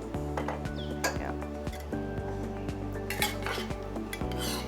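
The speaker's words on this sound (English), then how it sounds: "And then I stir it" A spoon scrapes and clinks against a pot while salmon roe rice with a splash of soy sauce is stirred, a continuous close rattle with small irregular knocks over a low steady background hum.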